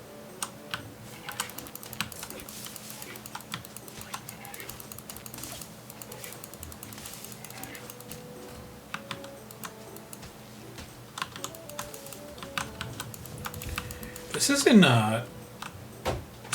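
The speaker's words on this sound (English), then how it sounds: "I hear you clicking away over there" Keyboard keys and mouse buttons click steadily in quick, light bursts throughout a Sparklite gaming session, close and fairly faint beneath someone talking, with a brief louder swell of game sound near the end.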